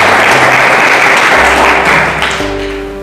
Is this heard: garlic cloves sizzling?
no